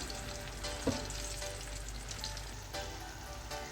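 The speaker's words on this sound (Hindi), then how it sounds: "अब इनको हम अच्छे से मिक्स करेंगे" Ginger-garlic paste sizzles and fries steadily in a hot pan while being stirred, with a brief scrape of the spoon near the start and a continuous close crackle throughout.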